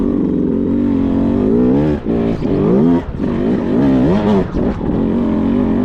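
A Beta 200 Racing dirt bike engine labors and pulls nearby up a hill, its pitch rising and dipping in several surges as it climbs, loud and uneven.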